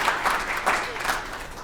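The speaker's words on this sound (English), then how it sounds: "Give her a big round of applause." Audience applause at a community panel event with live music rings out as a brief, moderately loud burst of clapping, with some voices mixed in.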